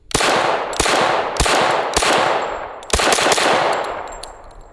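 Five loud, close semi-automatic shots from a .45 ACP Kriss Vector, fired at an uneven pace with a sharp crack and a ringing echo after each, no talking.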